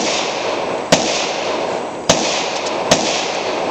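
Three sharp suppressed gunshots ring out at a shooting stage, spaced about a second apart over a steady background hiss, each a brief crack rather than a loud boom.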